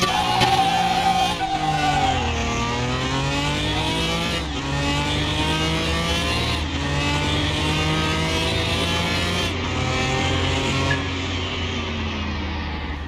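A modern V6 car engine revs hard in Car Mechanic Simulator 2021, climbing and dropping through repeated throttle blips and gear changes, loud, close and continuous with no talking.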